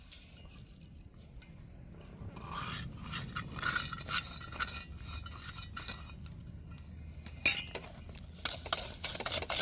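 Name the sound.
beating eggs with sugar and cardamom in a bowl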